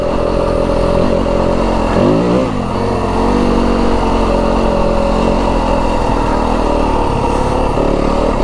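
A 2025 Yamaha WR250F dirt bike ridden solo through the Arizona desert, its mid-pitched engine droning steadily and loud throughout, with a brief dip and rev change near the start before holding a constant pull.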